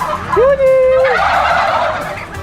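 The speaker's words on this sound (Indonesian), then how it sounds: "cuma kalkun jantan yang bisa mengeluarkan suara nyaring seperti suara kluk kluk kluk." A male turkey's single loud, warbling gobble rings out close by, rising then trailing off over about a second, followed by low background noise.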